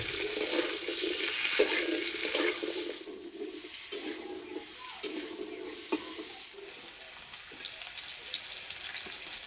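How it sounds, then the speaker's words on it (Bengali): Potatoes and vegetable stalks sizzle in a little oil in a wok, with the soft scrape of stirring. The frying hiss is steady and close, with occasional clinks and no talking. "আলু হালকা করে একটু ভেজে নিয়েছি।"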